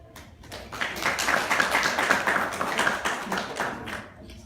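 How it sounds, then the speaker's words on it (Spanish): An audience claps at the close of a Spanish-language academic lecture on scale-free power networks and distributed collaboration. The applause is dense and steady, rises quickly, holds for a few seconds and then tapers off. "Por favor, denme un fuerte aplauso."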